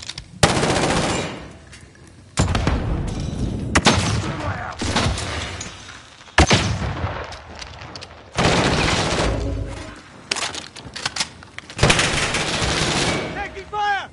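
Repeated bursts of loud automatic gunfire and sharp shots in the battle royale game Call of Duty: Warzone, coming in several heavy volleys separated by brief lulls, with faint game voice cues mixed in.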